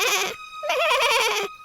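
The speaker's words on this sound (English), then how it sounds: "they heard the voices of the little goats." Little goats bleat in two loud, wavering calls, the first brief and the second longer and quivering, close and clear with no talk.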